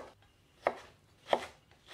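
Ginger is minced and pounded with garlic, producing three sharp, separate chopping knocks spaced well apart, close and fairly quiet, with no talking.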